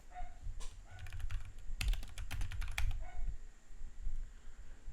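Typing on a computer keyboard: a quick run of sharp key clicks in two short bursts, close and crisp, then quiet at the end, with no voices.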